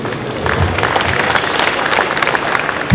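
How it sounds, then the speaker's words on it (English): Steady, dense audience applause at a college athletic hall of honor induction ceremony, a broad crowd of clapping hands holding at an even level throughout. "Round of applause for Joe"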